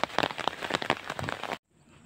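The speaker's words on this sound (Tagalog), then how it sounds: "Lakas ng ulan." Steady rain pours down, a dense crackling hiss of drops on a surface, loud and close, then cuts off abruptly near the end.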